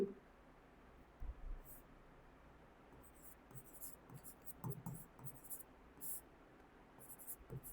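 Handwriting on a board during a Hindi-language Class 12 biology lesson: intermittent scratchy strokes in short bursts, fairly faint, with no speech over them.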